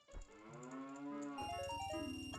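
A cartoonish cow moos in Ocarina of Time: one drawn-out, tonal low moo that rises and wavers, followed by a bright chiming game jingle carrying on beneath it.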